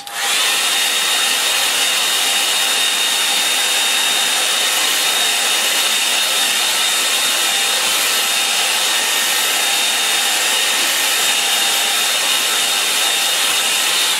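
A hair dryer blows steadily on a watercolour coastal painting, producing a loud, continuous whirring drone that starts abruptly and holds unchanged throughout, with no talking.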